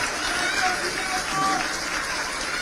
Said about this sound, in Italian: Bellissimo questo applauso per ricordare lui.